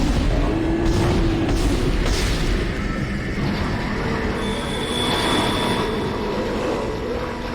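Tram arriving in Dead Space: a continuous heavy metallic rumble and roar with a high squealing whine from the wheels, loud and close throughout, with no talking.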